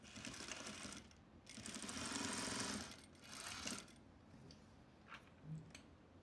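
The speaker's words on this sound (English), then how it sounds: "we're gonna sew them together at a 1/2 inch seam allowance" Sewing machine stitching two pant panels together, running in a few short bursts with pauses between, the longest run in the middle, fairly quiet and close.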